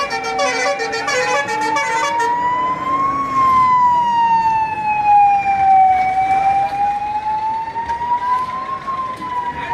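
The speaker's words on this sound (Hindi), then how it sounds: "देखिए आपको नज़र आ रहा होगा गाड़ी में सामने जो है फायर ब्रिगेड की जो गाड़ी है वो भी अब वहाँ पहुँच चुकी है, अग्निशमन की गाड़ी भी।" A fire brigade engine's siren wails loudly as it arrives at a car burning on a roadside in Gangapur City, Rajasthan; the tone rises and falls in long sweeps, close and dominant, with no talk.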